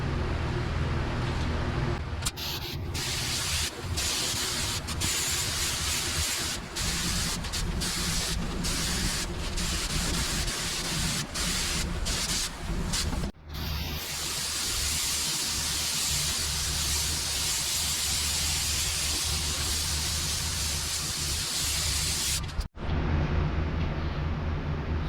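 A spray gun lays down high build urethane primer over epoxy primer on a car panel, a loud continuous broadband hiss running nearly the whole time, broken by brief trigger pauses and one short gap.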